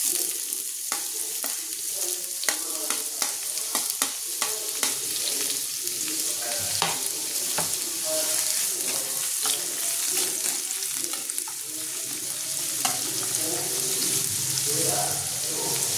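Chopped onion hits hot oil in a pan and sizzles steadily, with scraping stirs and a few clinks of a utensil against the pan, close up in a home kitchen while an egg shakshuka is made Bengali style.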